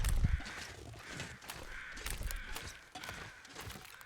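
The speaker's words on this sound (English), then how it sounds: "sets of crows over here" Crows cawing in the video game The Long Dark, a series of harsh rhythmic caws from several birds at a moderate distance, repeating about every half second over a quiet wind background with no talk.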